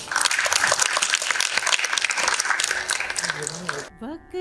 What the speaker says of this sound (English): Let us all give us a round of applause for Ms. Sunita Bhuyan.